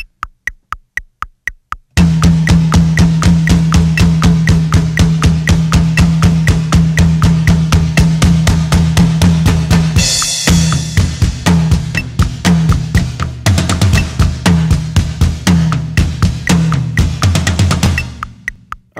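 A drum kit plays a driving rock beat, beginning with a few sparse hits before launching into steady kick, snare and cymbal hits that build in intensity, with a crash and fill midway, loud and close.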